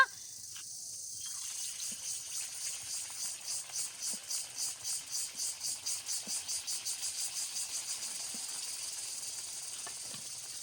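Semolina and carrot mixture frying in hot oil, a steady high sizzle with a rapid, pulsing crackle, close and fairly quiet, with no talk.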